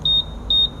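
Honda PCX160 scooter anti-theft alarm on its loud setting, sounding two sharp, high electronic beeps in quick succession, close and clear with no talk.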